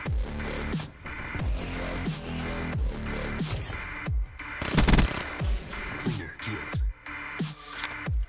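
Rapid automatic gunfire in Black Ops 3 multiplayer, bursts of loud close shots repeating about every second, with a denser flurry midway, no talk over it.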